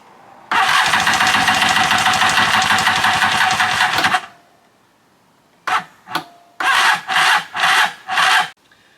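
A stand-up jet ski engine cranks over loudly and steadily for several seconds, then pauses and gives a few shorter bursts of cranking, close up with no talking.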